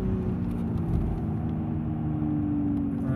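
A V12 BMW 7 Series on Michelin Pilot Sport 4 tyres sweeps through a corner at about 80 mph at the Nurburgring, its engine a steady, loud droning hum heard from inside the cabin with constant road rumble.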